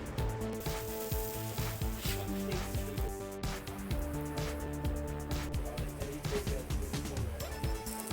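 Pork barbecue sizzling on an improvised portable grill, a steady dense crackle and hiss running throughout at moderate level, with a low hum and some faint talk underneath.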